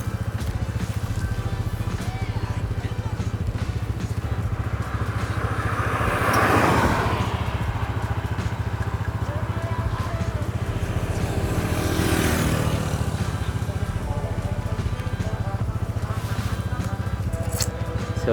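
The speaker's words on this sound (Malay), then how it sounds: "ni first time aku naik motor pula" A steady, low engine drone runs throughout, like riding a motorcycle, with wind rush and two louder whooshes of vehicles passing by.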